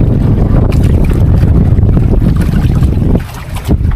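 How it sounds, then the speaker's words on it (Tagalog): Strong monsoon wind buffets a small fishing boat at sea during a storm, a loud, rough roar with gusty rumbling that eases briefly near the end. "medyo mahangin pa ngayon"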